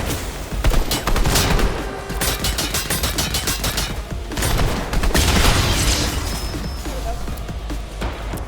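Rapid pistol shots ring out in a video game, tightly packed cracks that hold steady and loud throughout, with a voice talking over them at times.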